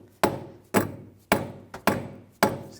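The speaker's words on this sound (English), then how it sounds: "You can use a rubber mallet." Rubber mallet tapping the steering knuckle of a 2013-2019 Ford Escape during a front wheel bearing and hub job: five sharp, evenly spaced thuds about half a second apart, close and clear, each with a short ringing decay.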